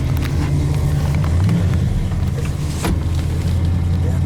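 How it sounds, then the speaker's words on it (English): Electric power windows on a 1967 Hemi-powered car with dual quads run up smoothly, a faint motor whine set against a steady, loud low engine rumble throughout. "Both of those windows on my side went up very smooth."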